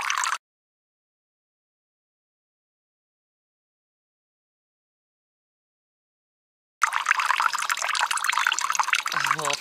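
Brown water from a trail water source on the Appalachian Trail is poured or filled into a container. The clip is silent at first, then a steady, close splashing pours in for the last few seconds.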